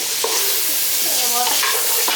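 Capsicum cubes stir-fried on a high flame in a kadai give a steady, close sizzle broken by short scraping stirs of the spoon against the pan.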